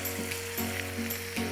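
Masala-marinated beef steak pieces sizzling in hot butter in a pan, a steady close frying hiss with faint repeated clinks as pieces are placed.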